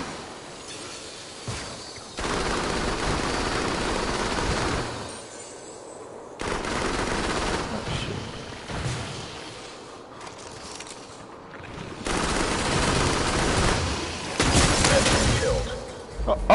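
Close assault weapon fire in the Farpoint video game: loud sustained bursts of rapid shooting with shattering impacts, broken by short pauses between volleys.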